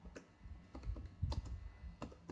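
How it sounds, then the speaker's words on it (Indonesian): Keys on a computer keyboard are tapped in a short burst while typing a couple of words in a word processor, giving quiet, irregular clicks alone in a still room. "saya akan mengetik dua kata"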